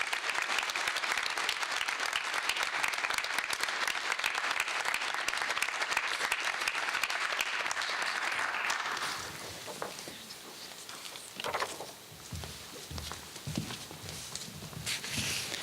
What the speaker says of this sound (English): Please give a warm round of applause to congratulate the newest members